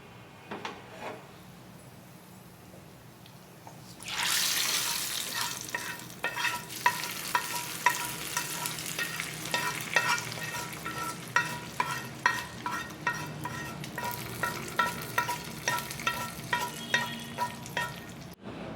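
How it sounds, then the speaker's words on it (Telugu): Hot tempering poured into cooked moong dal, bursting into a loud sizzle at about four seconds, then steady frying hiss with regular scraping strokes of a spoon stirring the pot. "ఇప్పుడు పోపుని పప్పులో వేసేసుకోవాలండి."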